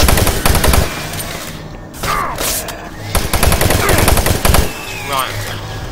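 Rapid bursts of automatic gunfire in the shooter game Doom 3 sound loud and close, coming in several separated volleys with short pauses between them.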